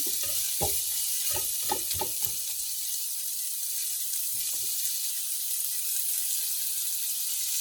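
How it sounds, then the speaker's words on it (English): Sliced onion fries in a pan for potato masala, a loud, close, continuous sizzle with a few sharp clinks of stirring against the pan early on, then steady frying with no voices. "Let's roast it until it's golden brown."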